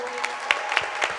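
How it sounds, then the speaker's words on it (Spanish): Brief applause at a church event thanking ushers and the sound team: a few distinct, rhythmic claps at an even pace rise out of a soft background murmur over just over a second. "un fuerte aplauso."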